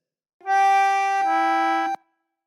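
An Anglo concertina plays a short Frère Jacques phrase: a few sustained reedy notes, steady and close, the last note held before stopping cleanly into silence.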